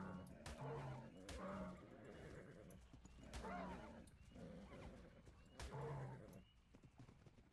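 A horse (Equus) in the video game Ark: Crystal Isles whinnies several times over steady clip-clop hoofbeats, the calls recurring in loud bursts roughly every second or two, with some voice activity in the background.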